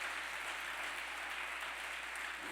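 Applause from a church congregation, a steady dense wash of clapping filling the room, moderately distant and even throughout with no talk over it.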